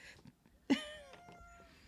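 A cat gives one clear, fairly close meow partway through, trailing off into a soft tail, with quiet room sounds around it.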